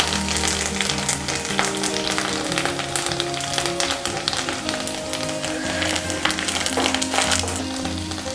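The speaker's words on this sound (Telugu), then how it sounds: "కొంచెం ఇంగు వేద్దాం." Asafoetida hits hot oil in a pan while making gongura pickle, with garlic and tender curry leaves already frying; a loud, steady sizzle and crackle runs throughout, with occasional taps and stirring.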